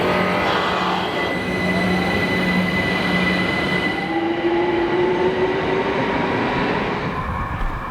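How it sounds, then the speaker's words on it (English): A London Overground train rolls past on an elevated track, a steady loud rumble with wheel squeal and tonal whine sustained throughout, close by and with no voices. "They're just noisy trains. Keep coming."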